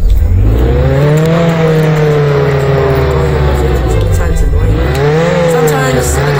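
Engine of a McLaren supercar driven in the Roblox game Jailbreak, a loud continuous synthetic drone with rising and falling pitch as it accelerates and shifts, steady and close throughout.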